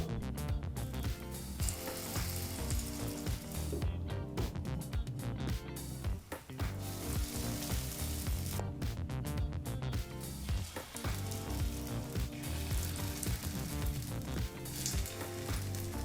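Paddu batter frying in the cups of a paddu pan over the flame, a continuous close sizzle with crackling bursts running throughout, no voices.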